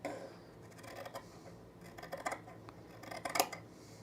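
Several short, crisp snips of scissors cutting through fabric, irregularly spaced, close by and fairly quiet with no talking.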